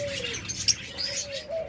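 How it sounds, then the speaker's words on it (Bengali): Diamond doves in a breeder's cage sit on their nesting bowl, giving soft, faint coos and light chirps with no talking. "চমৎকার ডায়মন্ড ঘুঘুগুলা"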